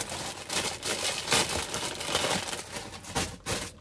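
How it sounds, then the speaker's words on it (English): Walkers crisp packets crinkle and rustle continuously at close range, a dense papery crackle with brief louder crunches and no speech. "A lot of rustling on this video."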